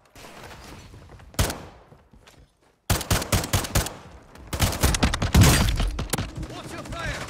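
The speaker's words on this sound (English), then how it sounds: "You are taking effective fire." Video game gunfire in rapid bursts of sharp, loud shots, with a brief impact early, a short silence, then dense volleys of crackling automatic fire close up.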